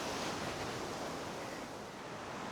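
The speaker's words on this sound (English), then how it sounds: "So you could probably hear the wind" Steady roaring wind noise buffets the microphone outdoors in the Scottish Highlands between Ullapool and Applecross, a constant broadband rush with no other sounds.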